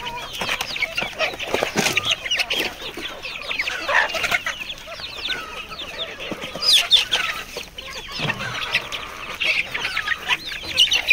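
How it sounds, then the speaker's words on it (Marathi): Desi country chickens on a poultry farm cluck and chatter constantly at close range, with many overlapping birds and the occasional crow. "पूर्ण गावठी कोंबड्या आहेत आपल्या।"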